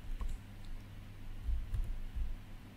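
Computer keyboard keys tapped in a few soft, scattered clicks during a Python programming session, faint against a steady room hum.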